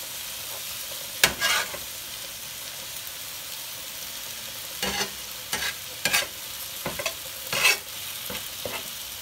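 Italian sausage frying in a pan with onions and peppers piled on top, a faint steady sizzle broken by several sharp stirring scrapes and clatters spaced unevenly.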